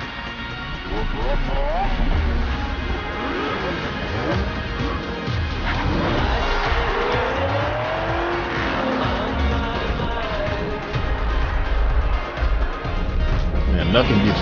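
Loud engines roar and rev continuously, with tires squealing, in the racing video game Forza Horizon 3, layered under music and a talking voice.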